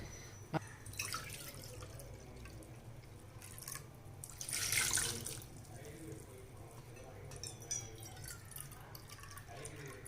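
Water poured from a cup into a container in a short splashing burst midway, while making rava puttu, with faint drips and kitchen background before and after.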